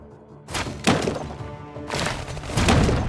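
Grenade blasts in the Iron Marines video game: two broad, punchy bursts, one near the start and another about midway, each with a rumbling tail over game music, no talk.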